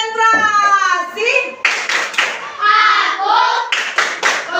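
A group, children's voices among them, performs the tepuk konsentrasi rhythmic clapping game, chanting in sing-song voices with bursts of hand claps close by.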